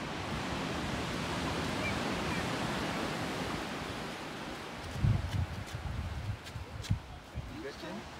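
Ocean surf at Seacliff State Beach rolls as a steady broadband wash with wind noise, and a few faint voices and knocks come in near the end.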